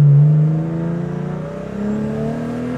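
A turbocharged BMW E36 engine revs loud and close under load, its pitch sliding and surging in a rough, throaty drone with no talk over it.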